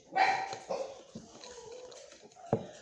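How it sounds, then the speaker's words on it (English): A dog barks sharply a few times, with quieter whimpering yips between, fairly close by. "When one barks, the other one starts barking too."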